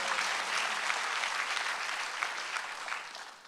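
A church congregation claps during a Sunday worship service, a continuous wash of many hands at moderate loudness that tapers slightly toward the end.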